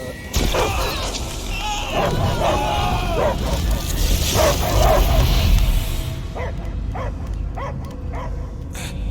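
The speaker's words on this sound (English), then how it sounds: "I hear only barking." A dog barks repeatedly in the video game Guardians of the Galaxy, loud yapping and bow-wow barks with whimpers amid crashing game effects, then sparser barks toward the end.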